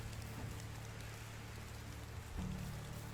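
Steady rain hisses in the medieval village game Medieval Dynasty, a soft, even wash of falling drops with a low hum beneath and no voices.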